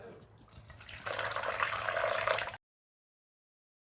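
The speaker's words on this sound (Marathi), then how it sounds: "ह्या वाटीने 1 वाटीभर पाणी ओतते." A bowlful of water poured from a small bowl into a pot holding jaggery: a faint rustle at first, then about a second and a half of close, steady splashing that stops abruptly.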